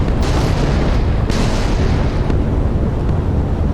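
A warship blows up in a naval battle video game, a loud dense roaring blast with sharp bursts at the start and around one second, continuing as a sustained rumble throughout without voices.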